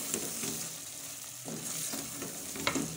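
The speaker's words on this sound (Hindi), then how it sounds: "अब हम इस मसाले में ऐड करेंगे और उसकी भी हम अच्छे से भुनाई कर लेंगे" Mashed chickpeas roast in a thick masala as a spoon stirs them through the pan, a soft, steady sizzle with occasional muffled scraping strokes, close and fairly quiet.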